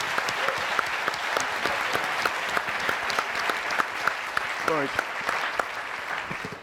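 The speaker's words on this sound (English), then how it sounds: "put your hands together and give these guys another round of applause." A conference audience gives steady, dense applause after a keynote panel discussion, sustained clapping throughout with brief speech heard over it.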